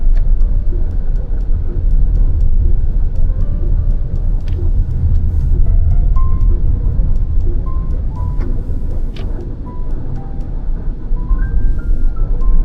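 A Chery Tiggo 7 Pro SUV on the move, heard from inside the cabin as a steady low road and engine rumble with faint higher tones, continuous and unbroken for the whole stretch with no one talking.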